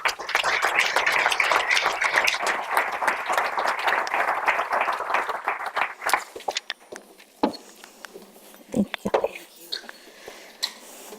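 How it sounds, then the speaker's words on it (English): An audience at a steel industry event applauds the next three speakers, a dense burst of clapping for about six seconds that thins into scattered claps and footsteps. "So a round of applause for our next three speakers."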